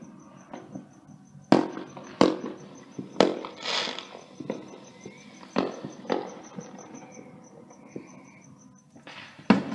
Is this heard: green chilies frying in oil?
no